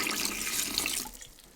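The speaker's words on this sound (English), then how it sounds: "I'm going to add some distilled water. Should cover the cabbage." Distilled water pours steadily into a big pot over salted cabbage for kimchi, a loud close rushing splash that tapers off as the pour stops.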